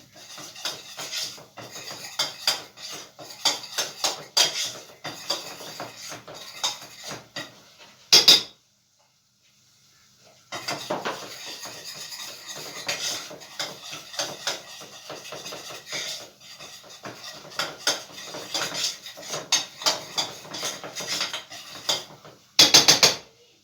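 Flour roasts in oil in a pan while a utensil scrapes and stirs it in quick rhythmic strokes, close and fairly loud, with two brief pauses and a couple of sharper knocks against the pan.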